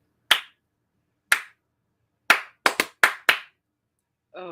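Hands clap along to a dance routine: six sharp, close claps, the first three spaced about a second apart, the last three quicker, followed by the start of a voice.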